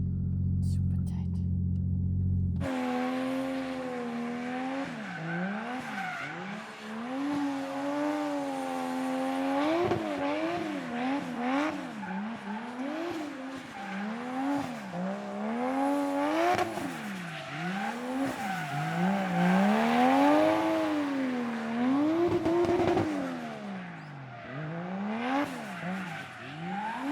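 Nissan Skyline drifting on a wet track in Japan, first gear through a tight layout: a loud, continuous engine note rises and falls in repeated revving swells as the car slides, dominant and up close throughout, with no talk.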